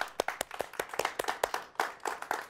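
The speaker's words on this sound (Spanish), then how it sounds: "Un aplauso, por favor." Sparse studio audience clapping for a guest on a talk show, individual hand claps clearly separated in a quick uneven rhythm, close and moderately loud with no talking over it.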